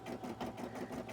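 A sewing machine stitches a cosplay piece in a short, quiet run of quick regular mechanical pulses, close by and alone.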